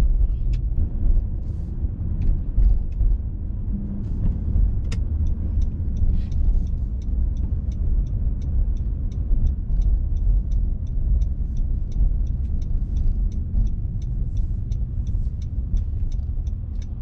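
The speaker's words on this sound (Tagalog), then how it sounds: "Traffic." Road traffic rolls past at sunset, cars driving with a steady low engine and tire rumble, plus faint rhythmic ticking, no talking.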